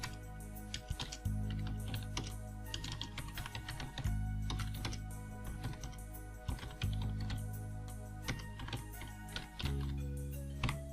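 Fingers tapping on a computer keyboard while typing text into a LibreOffice Writer document, quick irregular clicks close to the microphone, with a steady low electronic hum underneath.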